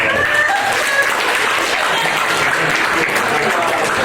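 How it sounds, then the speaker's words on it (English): Loud, dense applause from an audience at an after-prom hypnotist show, steady clapping filling the whole stretch with crowd noise and a few voices mixed in. "Let's get that both a big round of applause."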